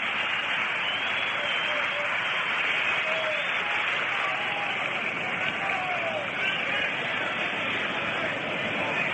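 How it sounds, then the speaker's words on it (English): Round of applause for White Sox pitcher Early Wynn as he is announced at the 1959 World Series Game 1 against the Dodgers, a steady, distant crowd clapping filling the ballpark on an old radio broadcast. "Here comes Early Wynn, having a nice round of applause"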